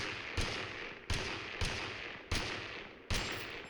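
A Winchester rifle fires in the video game TABG, giving five sharp shots in a fairly quick, slightly uneven rhythm. Each one is a loud crack with a short decaying tail.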